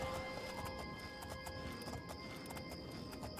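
Horse hooves clip-clopping in the fantasy game Oblivion, a steady rhythmic patter of hoofbeats at moderate volume over continuous ambient game sound and music, with no one talking.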